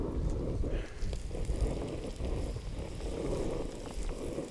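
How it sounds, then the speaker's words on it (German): Low, rumbling gusts buffet the microphone continuously, a rough wind roar with no voices. "ganz schön windig heute übrigens"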